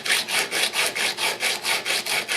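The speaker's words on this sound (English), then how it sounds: "I'm going to use the same half round file, and I'm going to start getting rid of our" A half round file rasps across the metal of a 1911 pistol in steady back-and-forth strokes, about eight even passes, close and loud with nothing else heard.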